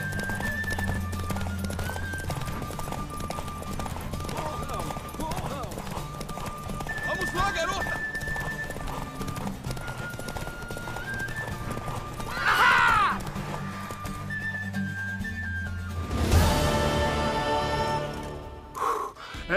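Horse hooves clip-clop steadily alongside a clear neigh and whinny of a mare, with music and spoken voices mixed over the top, in the video game The Witcher 3: Wild Hunt.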